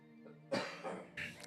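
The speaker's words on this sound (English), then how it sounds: "However, I'm going to cough." A couple of short, close coughs, one after another, over a faint steady hum.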